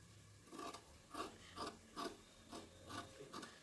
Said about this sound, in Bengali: তো আমি কাপড়টা কেটে দেই।